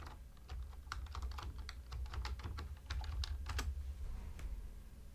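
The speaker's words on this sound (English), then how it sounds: "type in the password that I originally set at installation time" Rapid, irregular keystrokes on a computer keyboard as a password is entered at an Ubuntu login screen in VirtualBox, close and steady for about five seconds with a low background hum and no voices.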